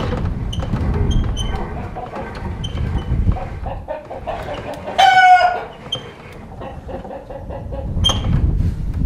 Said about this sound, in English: The chickens are not happy